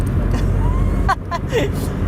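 A Caterham 420R race car drives along with a constant low engine and road rumble, while a person talks over it in short bursts.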